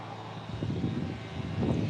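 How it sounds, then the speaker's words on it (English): A tipper lorry tipping its load nearby, unusually noisy: a loud, steady mechanical drone and whine that holds without a break, heard up close outdoors. "there's a lorry just here, and he's doing a tip, and it's the noisiest tipper I've ever heard"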